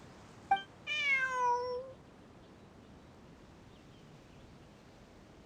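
A cat in the game Genshin Impact gives one clear, rising-then-falling meow lasting about a second, preceded by a short click and otherwise surrounded by near silence.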